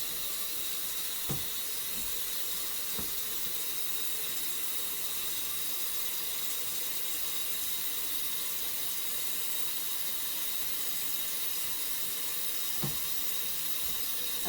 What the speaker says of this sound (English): So I'm going to refill this pot, so bear with me a moment with the noise.